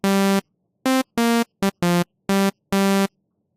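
Plain initial synth patch in Serum, a bright buzzy sawtooth-like tone played as seven separate held notes of varying length with silent gaps, loud and clean with no other sound.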